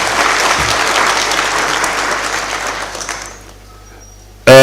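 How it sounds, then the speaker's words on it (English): An audience at a memorial lecture breaks into sustained applause, thick steady clapping that tapers off over a few seconds before a voice cuts in loudly at the end. "Can we give him another round of applause?"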